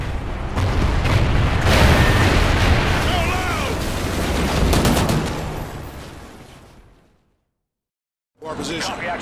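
Dense gunfire from the video game Call of Duty Ghosts, with heavy overlapping shots and booms in a loud, continuous barrage that fades out before a sudden silence, then returns briefly.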